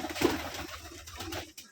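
Rajshahi Giribaz pigeons at a farm give a brief low coo, soft and close, over faint background noise.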